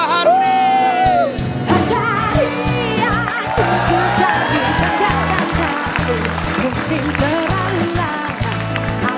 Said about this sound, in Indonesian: Pas si Chris masuk, mau cewek mau cowok teriak.